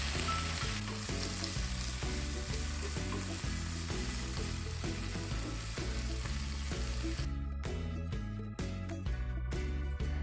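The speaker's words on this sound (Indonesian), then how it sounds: "ini pokoknya kita sangrai sampai airnya itu nggak ada lagi, tapi jangan terlalu gosong ya mams" Shrimp dry-roasting in a pan sizzles steadily under a loud looping music bed, the frying hiss faint and constant, with the music briefly breaking into sharp percussive hits near the end.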